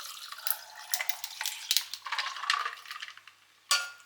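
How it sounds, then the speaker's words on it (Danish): Coffee poured over milk and ice in a glass, a close, uneven splashing trickle with faint clinks of ice, a brief pause, then a fresh burst of liquid near the end; no talking. "Og så hælder du egentlig bare kaffen over."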